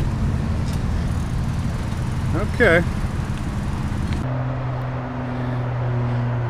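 Road traffic passes during a bike ride, a continuous low rumble of cars and engines close by, with a brief spoken word and a short chirpy sound over the noise before the traffic settles into a steadier hum.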